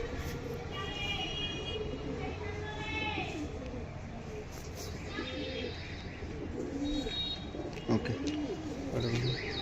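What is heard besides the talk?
pigeons cooing at a pigeon sale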